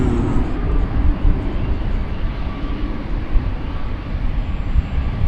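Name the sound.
American Airlines Dreamliner jet, Flight 35 to Auckland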